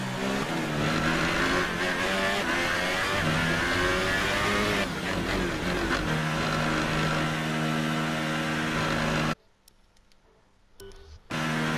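A Formula 1 car's engine in the video game F1 2018 at the Hungarian Grand Prix, heading into the pit lane: a loud, steady high-pitched engine whine with shifting tone that cuts off abruptly near the end, then briefly returns.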